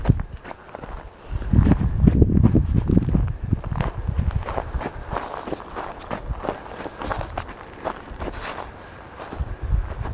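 Footsteps crunching along a walk through pine woodland in La Garita country, steady close strides on dry ground with heavier scuffing early on, soft wind in the background.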